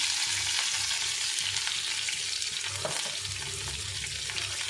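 Cucumber, tomato and brinjal fry in a pan with a constant close sizzle, joined by the soft scrape of stirring, and no one speaks.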